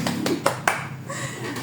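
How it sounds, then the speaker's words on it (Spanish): A few sharp hand claps ring out close by, three or four distinct strikes in quick succession, followed by quieter room tone. "Aplaudí."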